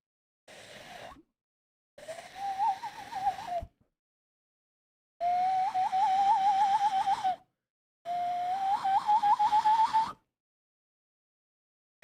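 A person whistles an imitation of a loon call in four long, wavering, rising phrases separated by short silences, close and clear with no other sound.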